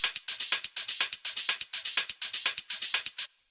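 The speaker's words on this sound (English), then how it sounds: "then after that we have these sort of background shakers / hi-hats which sound like this" Shaker loop layered with hi-hats in a tech house groove, a steady rapid run of crisp, bright hits with a pulsing rhythm that continues for about three seconds and then stops abruptly.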